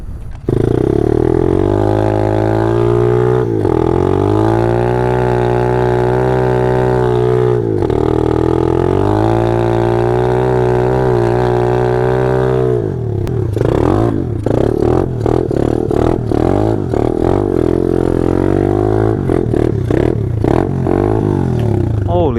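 A Taotao pit bike engine runs hard in mud, loud and close. The motor drones and revs steadily, then turns rough and uneven in the second half, sputtering as if stalling.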